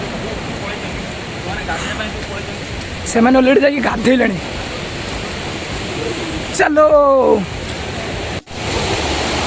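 A waterfall in the hills gives a constant rushing roar of falling water, with a few people talking briefly over it at close range.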